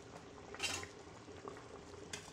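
Rice is partly cooked at a boil in a pot for chicken biryani. A faint, steady bubbling is heard close by, with a couple of brief, louder gurgling bursts.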